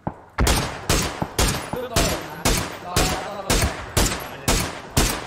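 An M416 rifle fires in PUBG, about a dozen sharp, loud shots in a fast, regular spray, each with a short echoing tail.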